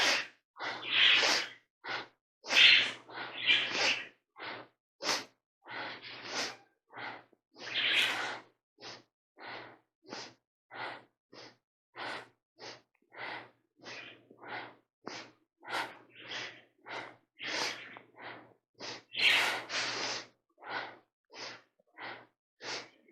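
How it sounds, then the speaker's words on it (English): Alternate nostril breathing in yoga practice: slow, steady inhales and exhales through the nose, each a soft airy rush, repeating rhythmically and close up with brief pauses between breaths. "Inhale right, exhale left."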